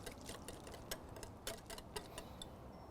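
A whisk ticks quickly against a bowl, beating avocado oil into a rub. Faint, fairly regular light clicks run throughout.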